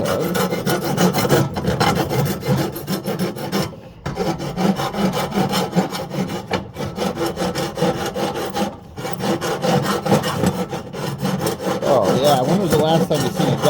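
Hand filing with a coarse bastard file to deburr the inside and outside of a custom driveline part for a 1936 Oldsmobile, a steady rasping scrape in repeated strokes, close and loud, with brief pauses.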